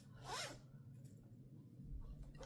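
A zipper with a rainbow finish on a knitting project bag is pulled once, a quick, quiet rasping zip near the start, followed by faint room hiss.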